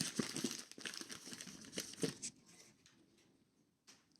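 Paper wrapping is crinkled and peeled off a miniature liquor bottle in a series of close, crisp rustles that taper into quieter handling.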